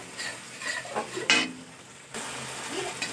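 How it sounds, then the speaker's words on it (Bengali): Ginger and garlic stirred in hot oil in a pan, with quick scraping and clinking of a metal spoon against the pan over a low sizzle, close up, including one sharp metallic clank. "আমি 3-4 মিনিট তেলের সঙ্গে এটা নাড়াচাড়া করে নেব"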